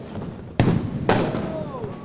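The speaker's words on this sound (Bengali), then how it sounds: "31st নাইটে উড়ানো হয় ফানুস, পোড়ানো হয় আতশবাজি।" Two sharp fireworks bangs burst half a second apart during New Year's Eve celebrations, each followed by a crackling tail, over a busy outdoor noise bed.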